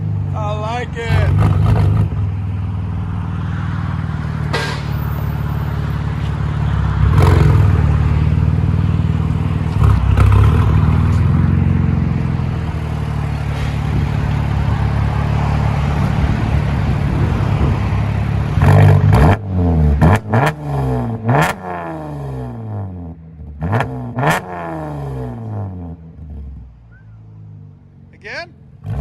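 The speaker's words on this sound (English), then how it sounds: "Those DYNOMAX bullets, guys, they never disappoint. They always sound so good on anything we put them on." A Chevy Camaro 3.6L V6 with Dynomax Bullet exhaust rumbles and revs up repeatedly, loud and close, with a steady idle underneath and people talking over it.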